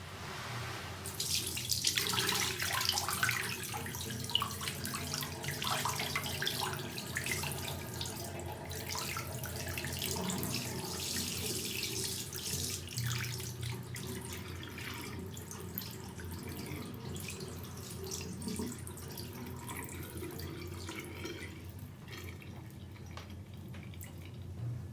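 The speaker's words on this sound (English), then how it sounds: "I'm going to be pouring the contaminated water, making sure that I don't lose any sample." Water running and splashing continuously as contaminated water is poured off a washed soil sample during a permeability test, a steady liquid pour with drips, no talking.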